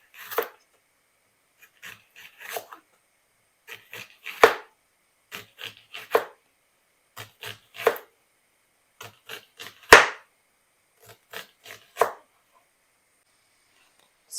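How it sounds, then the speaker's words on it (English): Knife slicing a medium white onion into rings on a cutting board, a series of crisp separate cuts in short irregular bursts with quiet pauses between, close and clear without any voices. "So we're gonna cut up one medium-sized white onion, guys."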